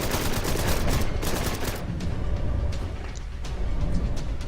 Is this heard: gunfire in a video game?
yes